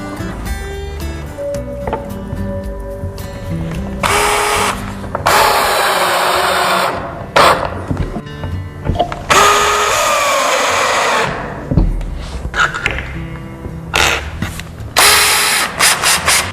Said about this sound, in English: I like to drive 2 3" screws into the stud through the L bracket.